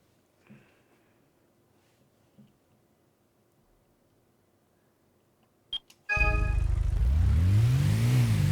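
Honda Civic del Sol racing in the 1998 PlayStation game Gran Turismo: after a quiet stretch with a few menu beeps, a loud buzzing engine roars in suddenly and revs steadily for the final seconds.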